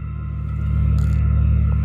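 A BMW active sound module speaker imitating engine noise while the car drives, giving a steady low drone with harmonic hum that swells slightly as pitch rises, continuous and fairly loud, with no talking.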